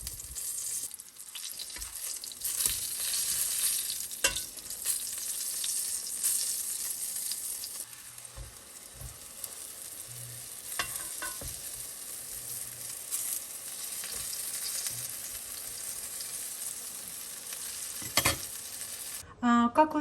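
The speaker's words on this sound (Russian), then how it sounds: "Обжариваем на довольно большом огне до золотистого цвета" Eggplant sautéing in a pan over fairly high heat until golden, giving a steady, quiet sizzle with occasional soft stirring scrapes and clicks, no voices.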